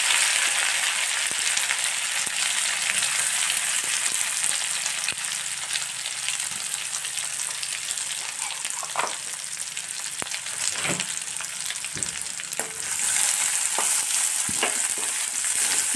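A paste of ginger, garlic, coconut and coriander frying in hot oil with cumin for a capsicum dish, a steady close hiss of sizzling with scattered sharp ticks and spoon scrapes, briefly louder near the end.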